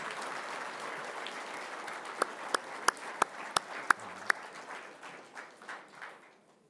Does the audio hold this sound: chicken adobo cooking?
no